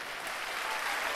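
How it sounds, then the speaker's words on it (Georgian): Audience applause at a Georgian folk dance competition final, steady dense clapping filling the moment without any voice over it. "აპლოდისმენტები"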